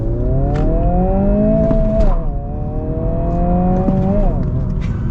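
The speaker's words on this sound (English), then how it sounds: "Now we're gonna get our full-blown acceleration here." A 2022 Honda Civic Si accelerating at full throttle, its engine droning loud and rising in pitch, with a quick shift around midway before the revs climb again, heard from inside the cabin.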